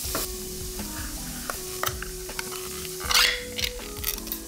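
Beans and spices sizzle and toast in hot oil for a homemade three-bean chili, a steady crackling fry broken by sharp clinks and scrapes of stirring.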